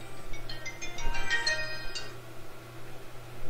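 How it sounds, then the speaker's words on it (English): A mobile phone ringtone plays a short, faint melodic burst of bright repeated tones for under two seconds over low background hum during a Myth II: Soulblighter game session. "my phone was going up there"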